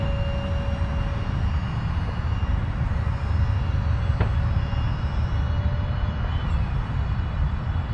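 A Skyflight F-117 or A-10 RC model jet comes in to land, heard as a steady engine whine and rushing drone throughout, fairly loud and close with no speech.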